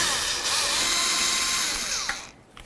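Power driver spinning out the mounting screws of a headlight lamp assembly on a 1988-2000 Chevy C/K1500 pickup, one loud, continuous high whine held close for over two seconds before it winds down.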